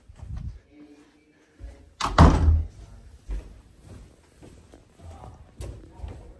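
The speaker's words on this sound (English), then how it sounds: "Can close the door if you want." A door is pushed shut indoors with a single solid thunk near the middle, set among quieter footsteps and household knocks.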